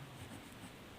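A pen writes on paper during a coordinate geometry lesson, making a quiet, continuous scratching and rubbing over about a second.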